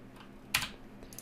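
A computer keyboard gives a brief, quiet cluster of key clicks while text is typed, with one sharper keystroke standing out.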